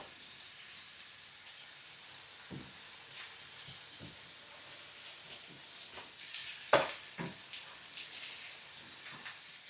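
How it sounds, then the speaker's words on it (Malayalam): Salted onions sizzle steadily in a hot pan, browning for beef chaps, with a soft, constant hiss, broken by a few sharp scraping clinks of stirring partway through. "ഈ സവോള കരിയാതെ നന്നായിട്ട് ബ്രൗൺ ആക്കി എടുക്കണം"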